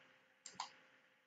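Two quick mouse clicks close together, crisp and near, made while working in Solidworks on a computer, with a quiet background and no talk.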